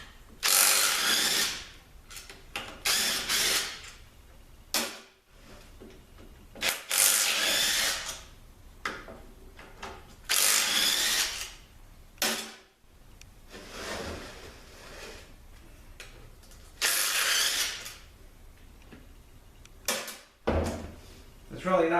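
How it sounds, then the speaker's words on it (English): A 13mm socket wrench removes bolts from a 413 transmission housing in repeated bursts of ratcheting and metallic clicking, close by with short gaps, and someone talks quietly at times. "I got my 13mm socket, and I'm going to start by taking the two housings off"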